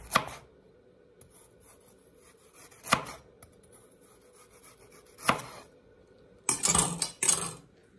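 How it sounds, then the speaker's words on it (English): Vegetables, including carrots, are chopped on a board for a plant-based broth, with several sharp knife strikes spaced apart and a quick flurry of cuts near the end, close and fairly clear. "Everything's all chopped up."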